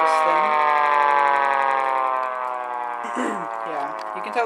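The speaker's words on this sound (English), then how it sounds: "I'll just be doing videos, like short growls of this Siren" A Mini 2T22A siren growls, holding a loud, steady rotating tone that slowly winds down, with someone talking over its tail end.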